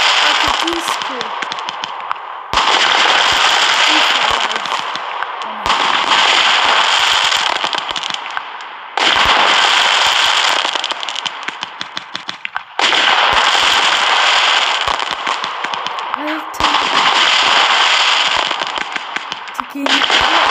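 Fireworks explode in a New Year's fireworks simulator game. Long bursts of loud, dense crackling and popping come in several waves, separated by short gaps.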